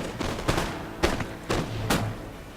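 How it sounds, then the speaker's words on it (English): Jaeger light infantry fire muskets at advancing German Fusiliers in the Napoleon: Total War game. Four sharp, separate reports crack out in an uneven rhythm over a soft background din. "they've started taking some pot shots at this unit of German Fusiliers which are marching forward"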